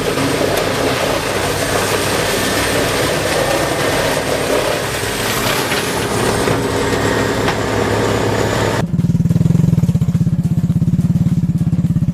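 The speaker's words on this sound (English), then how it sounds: "These young men are accompanying a small motorcycle, but what is surprising is that the motorcycle is carrying large logs." Small motorcycle hauling large logs, its light high-revving engine droning steadily and fairly close, then shifting to a lower, louder rumble near the end.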